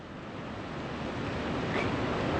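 Ocean waves wash steadily around a fishing boat out at sea during salmon fishing, a broad continuous rush of surf with some wind noise on the microphone, slowly growing louder and with no talking.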